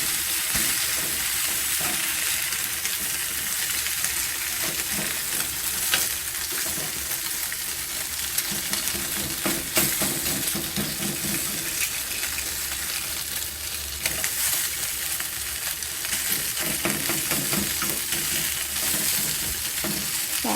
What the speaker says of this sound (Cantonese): 啲牛仔骨咧其實好易熟，唔使煎太耐嘅